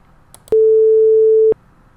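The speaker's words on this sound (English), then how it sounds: "First, let's play a sine wave with a frequency of 440 Hz," A single clean, steady pure tone at middle A, held for about one second and starting and stopping abruptly, with silence on either side.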